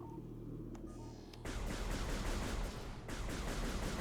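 Rapid arm cannon shots in Metroid Prime Remastered, a dense burst of repeated blasts starting abruptly after a low hum, loud and continuous with a brief gap.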